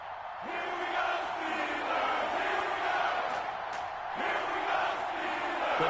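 Stadium crowd roaring and cheering in an NFL football video game between the Baltimore Ravens and the Pittsburgh Steelers, a sustained loud swell of noise with rising surges, no clear talk.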